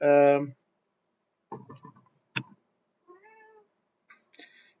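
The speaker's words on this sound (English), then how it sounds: "My cat entering the room." Cat entering a room and giving a loud, close meow right at the start, followed by quieter chirps, soft trilling calls and a few clicks amid silence.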